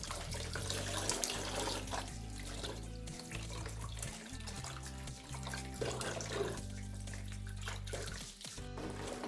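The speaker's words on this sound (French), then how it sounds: "Il faut tout rincer, il faut nettoyer." Acrylic ring-pour painting tools rinsed and cleaned under a running tap, a continuous close rush and splatter of water with shifting tone as the items move through the stream.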